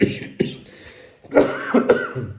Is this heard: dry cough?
yes